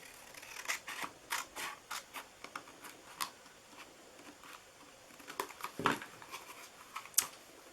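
Paper being cut with scissors while crafting a Christmas gnome treat box, a series of close, quiet, crisp snips in an uneven rhythm with short pauses between cuts.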